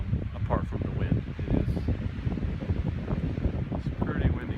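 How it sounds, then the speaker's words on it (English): Gusty wind buffets the microphone on an exposed mountain summit in the Roan Highlands, a steady low roar with rustling surges and no clear pauses. "it's pretty windy here"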